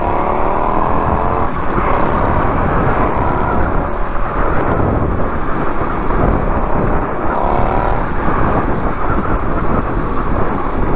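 An Indian Scout Bobber motorcycle being ridden, its engine droning loud and steady with rising and falling tones as the throttle opens, heavily buffeted by wind noise throughout.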